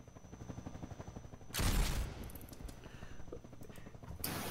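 A short loud burst of gunfire in GTA's Grove Street breaks through quieter game ambience, followed by scattered smaller clicks and cracks, fairly near.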